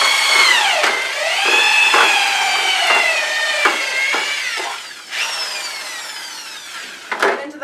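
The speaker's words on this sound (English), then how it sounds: "And pulling the drill up every once in a while." A power drill mixes glaze in a bucket, its motor whining steadily with a pitch that dips and rises as the load shifts. Regular soft knocks break the whine, and the tone changes near the end as the drill is lifted.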